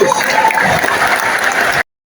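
Applause from a large church congregation at a Christmas service in a stadium, a dense, steady roar of clapping that holds evenly for nearly two seconds, then cuts off abruptly into silence.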